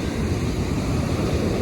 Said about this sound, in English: The crashing waves just talk to it.